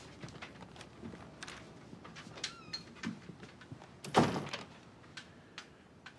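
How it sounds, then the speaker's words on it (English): An office door is shut with one brief thud partway through, heard among quiet room sounds and faint background activity. "Shut the door."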